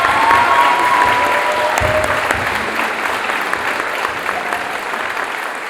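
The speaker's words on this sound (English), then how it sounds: "Would you join me just a round of applause?" A crowd gives a steady round of applause at an EMS graduation ceremony at a public safety training center, dense clapping filling the room and slowly tapering, with faint voices underneath.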